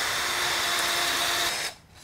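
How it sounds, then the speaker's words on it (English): Power drill boring through a mold for a DIY wall-hanging water feature, a steady loud whine for about one and a half seconds that stops abruptly. "drill right through the mold"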